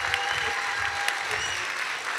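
A university physics slam audience breaks into dense, steady applause that fills the room at an even level, with no voices standing out above it.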